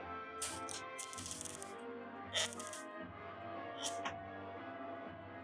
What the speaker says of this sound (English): Hopefully it unzips perfectly